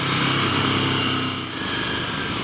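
A Ducati motorcycle riding off-road on a mountain route through the Mercantour Alps, its engine droning steadily and close throughout with no talk over it.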